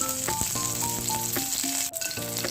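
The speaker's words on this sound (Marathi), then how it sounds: "तूप गरम झाल्यावर आपल्याला टाकायचं आहे जिरे त्यानंतर हिरवी मिरची" Cumin seeds and green chillies fry in hot ghee in a kadhai, a loud continuous crackling sizzle with stirring scrapes and brief tonal clinks of the spoon against the pan.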